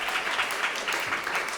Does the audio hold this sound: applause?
yes